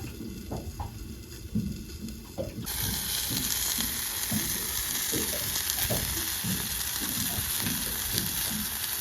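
Sausages frying in a hot pan, a steady loud sizzle that swells partway through and then holds, with faint clatter and stirring underneath; no talking.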